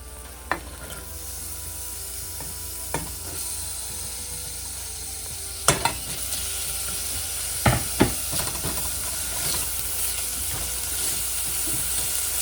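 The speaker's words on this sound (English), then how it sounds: "we want to saute the onion just until it starts to soften" Chopped onion sautés in a preheated pan for a pickled-jalapeño hot sauce, giving a steady close sizzle and hiss with a few sharp clicks and scrapes from stirring, no voices.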